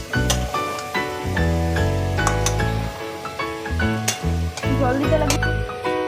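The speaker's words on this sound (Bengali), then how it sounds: "এবার ছোলাটা দিয়ে ভালো করে সুন্দর করে এবার কষাতে হবে" Boiled chickpeas sautéed in a spiced pan for Bengali ghugni, loud continuous sizzling broken by repeated metallic clinks and scrapes of a stirring spoon, close and steady, with no one speaking.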